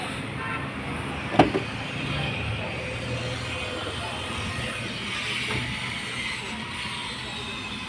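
Steady engine hum from a Datsun Redigo after an overhaul for overheating, running continuously with a brief click near the start, heard beneath low background noise and voices.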